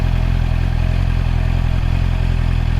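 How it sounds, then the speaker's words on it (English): A 2024 Honda CBR650R E-Clutch inline-four motorcycle engine runs steadily at idle, loud and close, with an even, continuous mechanical hum and no one speaking. "So a lovely inline 4 sound. Inline 4s do sound really good."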